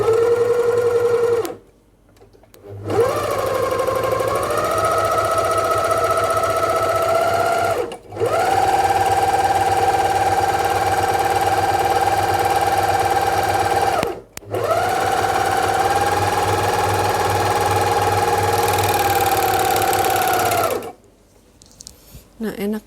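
A Freya 854 three-thread overlock machine stitching in loud, close, sustained whirring runs, three long bursts separated by brief pauses, with a voice speaking over the motor.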